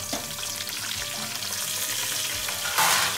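Whole spices dropped into hot oil for mutton biryani crackle and sizzle steadily and fairly loud, with a brief burst of hissing spatter near the end and no voices.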